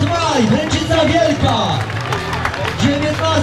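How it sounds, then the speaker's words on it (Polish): Spectators clap and cheer for runners at a road race, mixed crowd noise beneath an announcer's amplified voice talking over it throughout. "Brawa, brawa, nieustające."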